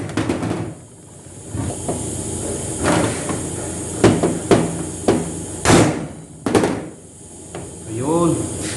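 Sharp metallic taps from a hammer striking a Phillips screw on the 4WD differential cup of a Hyundai Tucson or Santa Fe, several spaced knocks over the middle of the clip, close and loud among workshop clatter.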